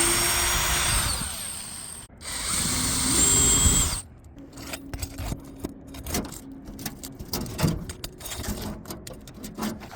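A power drill backs screws out of a roof boot on a shingle roof, with two whining bursts of the motor followed by clattering, scraping handling noises and light knocks.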